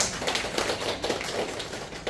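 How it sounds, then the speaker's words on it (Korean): A crowd in a lecture or church gathering claps briefly, a dense patter of many hands at moderate distance. "박수 한번 쳐줘"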